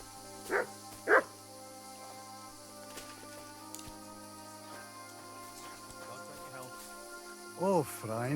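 Dog barks in the medieval video game Kingdom Come: Deliverance 2, two sharp barks early then a whining yelp near the end, over a quiet ambient hum with faint voices.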